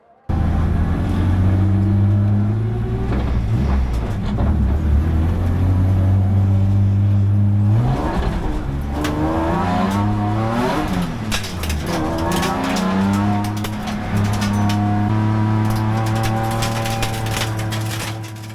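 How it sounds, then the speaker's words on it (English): A circuit race car in the Improved Production class, driven in the wet during a cold, puddle-strewn qualifying session, its engine droning loud and near with rising and falling revs across gear changes. "I went out for the first time ever driving the car in the rain"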